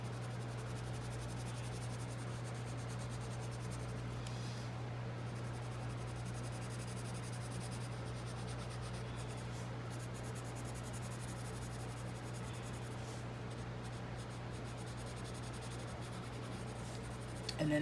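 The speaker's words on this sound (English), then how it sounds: "A blue colored pencil? Yes, we do. We'll use it right here." A colored pencil scratches steadily across paper during mixed-media artwork, a faint continuous rubbing texture over a low steady hum, with no voices.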